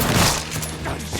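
Gunfire in the video game Mafia 3, a dense burst of shots mixed with rumbling booms, loud and close, filling the short moment without talk.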